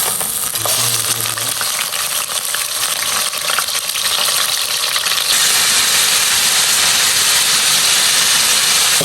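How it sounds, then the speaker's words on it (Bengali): Chicken pieces frying in oil in a pan, a loud continuous sizzle that intensifies partway through, with a brief clink of utensils early on. "প্রথমে আমরা তেলে চিকেনগুলো একটু ভেজে নিব, হালকা করে একটু ভাজবো চিকেনগুলোকে।"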